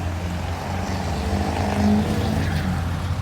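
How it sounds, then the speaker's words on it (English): Deep, steady rumble of a 2014 Chevrolet Corvette Stingray's multi-mode performance exhaust, the engine idling and lightly revving, close and continuous. "It has the multi-mode exhaust, performance exhaust in the back."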